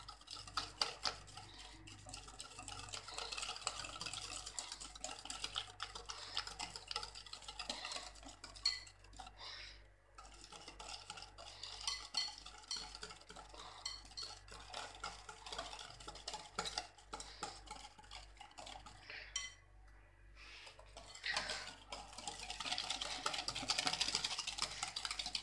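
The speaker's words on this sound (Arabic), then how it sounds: "نخلطو جيدا حتى كيندمج لينا الزيت مع البيض" Whisking oil into beaten eggs in a bowl for coconut basbousa, a quiet, continuous clatter of utensil against bowl with irregular stirring rhythm, close and faint, without talk.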